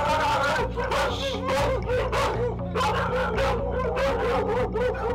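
A large pack of dogs barks, yips and howls at once, a loud overlapping chorus of rapid calls filling the whole stretch close by.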